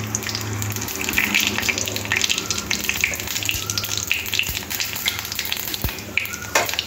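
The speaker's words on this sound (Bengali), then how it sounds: "তেলের মধ্যে দিয়ে দিতে হবে ফোড়নের জন্য শুকনো লঙ্কা 2খানা, 2 টুকরো করে কেটে নিয়েছি" Halved dried red chillies, whole cumin and a bay leaf tempering in hot oil for a masoor dal with drumsticks give a close, steady crackling sizzle that carries on without a break. No one speaks over it.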